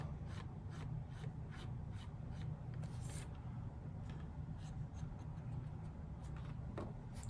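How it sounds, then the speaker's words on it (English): Dry rasping rubs on a model railway wagon as weathering paint is scrubbed off, a steady series of short close strokes repeating in a quick rhythm with no talking. "So I'm just rubbing and removing the paint"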